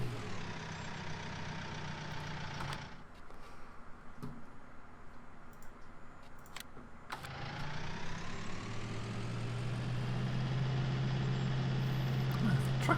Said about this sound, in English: Tractor's really tugging along here.